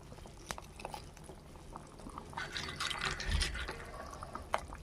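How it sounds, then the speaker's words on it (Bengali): Bengali shukto curry broth bubbles in a pot on a gas flame, a soft irregular simmer of pops and gurgles that swells slightly toward the end, close and fairly quiet. "ঝোলটা আমার ফুটতে শুরু করেছে"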